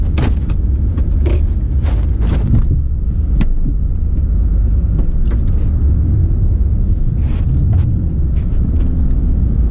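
A truck engine rumbles steadily and loudly from inside the cab while plowing snow at night, with a constant low drone and a few scattered knocks and clicks.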